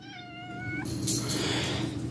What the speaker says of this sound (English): my cat decided to jump up in the middle of recording